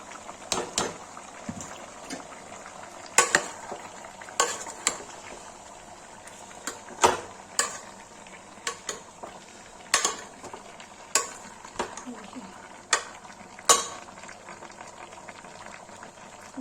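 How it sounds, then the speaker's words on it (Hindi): Chicken and onions frying in a pan, a steady soft sizzle broken by regular sharp scrapes and knocks of a spoon stirring roughly every second or two. "गाइस देखिए चिकन भून रहा है।"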